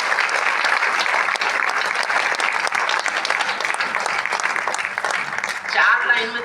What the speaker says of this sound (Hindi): एक बार आप सब अपने लिए तालियां बजाइए।